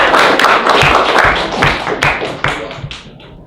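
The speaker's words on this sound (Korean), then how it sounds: "박수!" A classroom of high school students claps together after a lecturer calls for applause, a close burst of quick, dense hand claps that tapers off over a few seconds.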